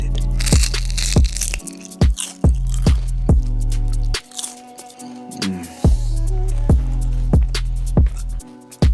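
Crispy salmon skin crunched in repeated sharp, close bites, loud and steady with brief pauses, no talking.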